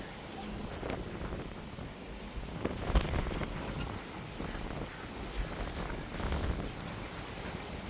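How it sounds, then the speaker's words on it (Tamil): Strong wind roars steadily through village trees and bottle gourd and cassava plants, buffeting the microphone in gusts with a constant rushing noise. "சரியான காற்றடிக்குதுங்க பாருங்கள் மரத்தை"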